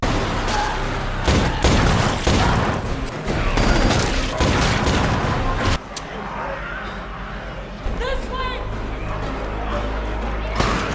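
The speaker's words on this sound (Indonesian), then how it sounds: "Scott pun langsung dengan cepat juga menembak zombie di sana." Rapid, dense gunfire from a zombie film fills the first half as zombies are shot, then gives way to quieter, scattered action sounds and raised voices.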